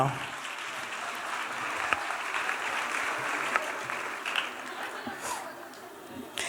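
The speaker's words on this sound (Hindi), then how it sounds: "Big round of applause for these students" Applause at a school annual function as students receive awards, sustained clapping from a hall audience at moderate level, with a voice faintly audible beneath it.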